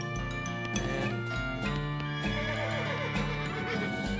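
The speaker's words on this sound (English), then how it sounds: "The horse shies away from you" A horse in the video game West of Loathing whinnies over layered game music and effects, the neigh blending into a busy, steady soundscape at moderate volume.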